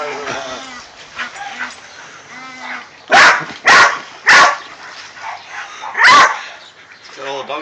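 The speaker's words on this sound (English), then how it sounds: "So all the dogs going." Dogs bark loudly and close, with four sharp barks bunched in the middle and others yipping and whimpering around them.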